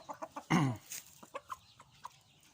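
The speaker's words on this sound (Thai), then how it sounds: "ไก่นมยังไม่คัดนะครับ" Six-month-old young chickens cluck close by: a few quick soft clucks, one louder squawk, then scattered clucking continuing quietly.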